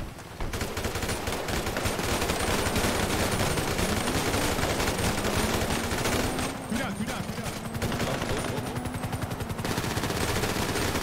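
Sustained automatic gunfire in GTA 5, aimed at a police helicopter, rattles loud and close for the whole stretch, with rapid overlapping shots and a rising engine or rotor whine underneath.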